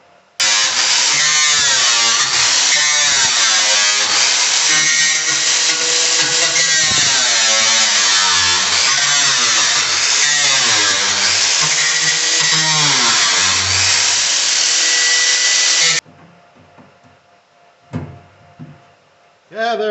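Power tool cutting along a line through the steel floorboard panel of a 1980 Triumph TR7, a loud continuous whining grind with a wavering pitch for about sixteen seconds, then stopping abruptly and leaving faint clatter.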